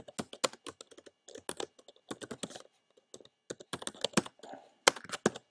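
Typing on a Mac computer keyboard, rapid bursts of crisp close key clicks separated by short pauses, with no one speaking.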